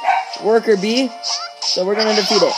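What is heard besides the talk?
dogs barking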